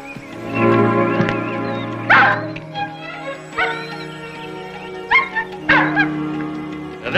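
A wolf whimpers and yips in distress, a series of high, wavering cries and short yelps rising over a steady low musical drone, with louder bursts near two, four and five to six seconds.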